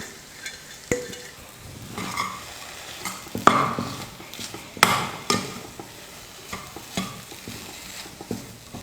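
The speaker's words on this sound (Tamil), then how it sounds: "எல்லாத்தையும் சேர்த்து நல்லா மிக்ஸ் பண்ணிக்கிட்டேன்." Potato snack mixture being stirred in a pan on the stove, with chopped coriander added: soft scraping and clinks of a spoon against the pan at an irregular pace, fairly faint with light sizzling.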